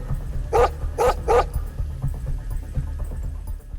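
D-Dog, the canine companion in Metal Gear Solid V, barks three times in quick succession over a low, steady game hum, with no further barks after the first half.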